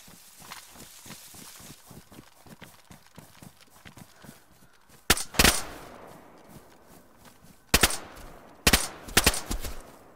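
Sharp bursts of rifle fire in DayZ on PS4 during a PvP fight, a close loud volley followed by two more quick bursts, after a stretch of rapid rhythmic footstep-like clatter.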